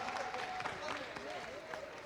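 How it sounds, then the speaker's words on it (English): Quiz-competition audience applauds contestants at a March 6th celebration event, steady crowd clapping with a voice talking over it throughout. "A round of applause for Ghana SDA"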